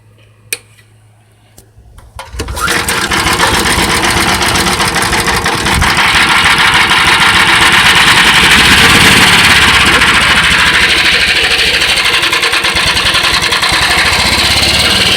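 A gas engine fitted into a converted Club Car golf cart starts after a quiet moment and settles into a loud, steady, buzzing run, close by and continuous.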